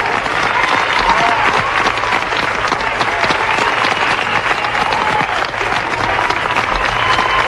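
Mission control bursts into sustained cheering and applause at the Apollo 11 landing, loud and dense clapping mixed with crowd voices and shouts, unbroken throughout.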